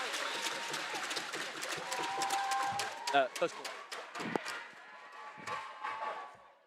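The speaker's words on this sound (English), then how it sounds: "And the crowd goes wild on both sides" Spectators at a Sheffield Varsity water polo match cheer and applaud at the end of the first quarter, a steady crowd roar with claps and shouts under a commentator's voice, rising briefly in a louder burst midway.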